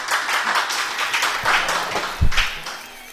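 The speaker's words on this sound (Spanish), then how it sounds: "Un aplauso para él." A studio audience applauds an interview guest being welcomed on stage, a dense, steady patter of many hands clapping at close range that tapers off toward the end.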